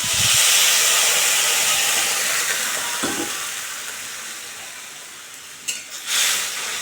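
Water poured into a pan of simmering fish curry sets off a loud, steady hiss of steam and boiling that slowly fades, with a few faint clinks near the end.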